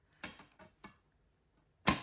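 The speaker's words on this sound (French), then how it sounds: "Le bruit de la règle métallique" A metal ruler scrapes along paper as it is torn, making three quick, faint scratchy strokes, then a pause and one sharper, louder rasp at the end.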